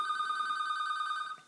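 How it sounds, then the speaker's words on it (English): An office telephone rings with a steady electronic trill, continuous and moderately faint, heard from another room, then cuts off near the end. "That's the phone."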